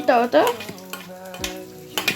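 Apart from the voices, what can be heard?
garlic, green chilli and ginger sizzling in hot oil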